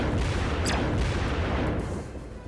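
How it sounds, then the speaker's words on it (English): A cannon sound effect plays during a Star Wars Clone Wars read-aloud story: a loud, dense burst of rumbling blasts and booms filling the whole moment, then easing off toward the end. "Lucky raised up the seat of the cannon and fired."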